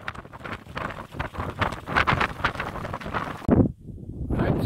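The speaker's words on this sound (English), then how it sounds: "wind is so strong today" Strong wind gusts buffet the microphone on a mountain summit, a loud rough roar that surges and dips, dropping out briefly before returning.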